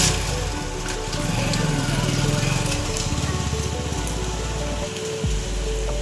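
Rain heard from inside a car driving toward a ring road in a downpour: a dense, continuous hiss and patter on the vehicle with a low road rumble beneath, steady throughout.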